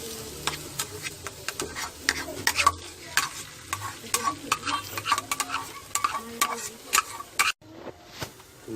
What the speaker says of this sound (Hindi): इसे आग से हटाकर हिलाते रहना है